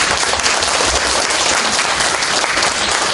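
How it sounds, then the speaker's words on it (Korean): Audience applause at a live public broadcast recording in Busan, a dense steady clapping from a large crowd, fairly loud and continuous throughout with no clear talk over it. "박수도 타이밍을 맞춰야죠."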